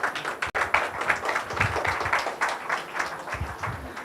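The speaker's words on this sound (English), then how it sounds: "So can we have a great round of applause for sir?" An audience at an engineering college fest applauds a speaker, a steady, fairly dense round of clapping that keeps going at an even level for several seconds with no talk over it.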